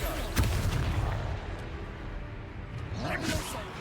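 Fire spell blasts in the wizarding game Hogwarts Legacy: a booming burst near the start and another toward the end, set against busy combat noise with a voice speaking over it.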